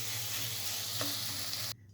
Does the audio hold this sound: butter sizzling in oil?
yes